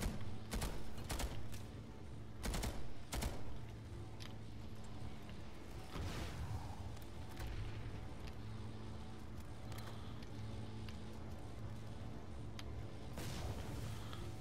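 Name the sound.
gunfire in the video game Planetside 2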